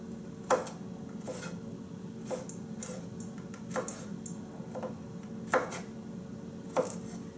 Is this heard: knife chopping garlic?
yes